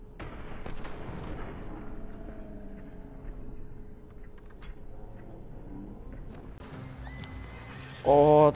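In the Red Dead Redemption 2 video game, horse hooves clip-clop at a gallop under game noise and faint gunfire, ending with a loud, close horse whinny in the last second.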